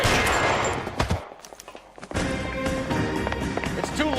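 Gunfire in the L.A. Noire video game: a dense volley of loud shots with a brief quieter lull, then further cracks over busy game noise, with a voice speaking partway through.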